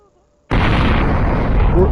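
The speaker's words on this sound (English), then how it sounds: "Let's celebrate with some fireworks." Fireworks go off in the NEOS VR game, a sudden loud burst after half a second of near silence, followed by a dense crackling roar that fills the rest of the moment.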